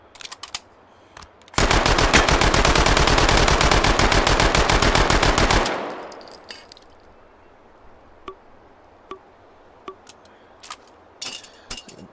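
Sustained rapid burst of automatic gunfire from a simple workhorse rifle in the VR shooter H3VR, loud and continuous for about four seconds, then fading into a quiet room with scattered faint clicks.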